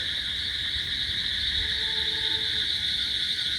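A dense chorus of crickets and toads calls at night around a house where water has pooled below, a steady high insect trill over low croaking, continuous and fairly loud with no talk.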